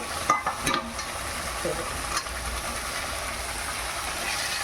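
Boiled taro stolons being sautéed with spices in a pan for a spicy fish curry, a steady close sizzle broken by a few sharp stirring clatters early on, no voices.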